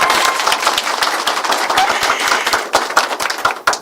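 An audience applauds the chairman at a live choir broadcast, many hands clapping in a dense, steady patter that swells and then breaks into sharper, scattered claps toward the end.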